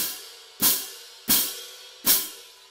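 Crash cymbals struck together with their edges square to each other give three separate airy, hissing crashes, each a sharp wash that fades before the next, close and alone.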